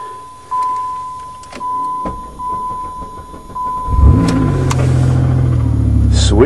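Chevy engine cold-starting in winter while buried in snow: a starter cranks with a steady whine, then the engine catches and settles into a loud, close, rough idle.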